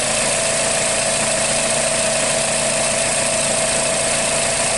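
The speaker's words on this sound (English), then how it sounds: "You hear the difference in the engine." A 2006 Nissan Sylphy engine with a lean-running fault idles just after its mass airflow sensor is plugged back in, giving a steady, loud mechanical drone with a constant hum and no voices.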